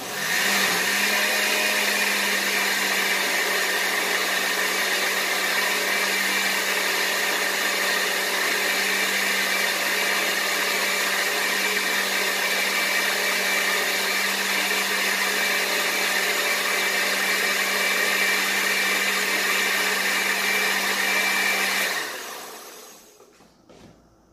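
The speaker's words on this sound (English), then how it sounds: "Okay, let me blend it." A kitchen blender whirs at full speed, blending fish pepper soup ingredients in one loud, steady roar for about twenty seconds before abruptly shutting off and spinning down.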